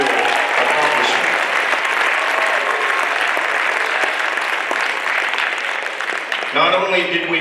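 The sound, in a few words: applause for girls' wrestling state championship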